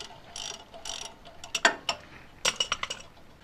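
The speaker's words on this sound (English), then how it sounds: "Go ahead and remove the two 17mm bolts for the brake caliper now." A hand ratchet working loose the two 17mm brake caliper bolts on a Toyota Tacoma, with irregular bursts of sharp metallic clicks, close and fairly clear, with short pauses between strokes.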